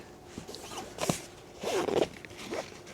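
A zipper on the stove jack cover of a cheap canvas hot tent is pulled in a few short, close rasping bursts, quiet and with no talk over it.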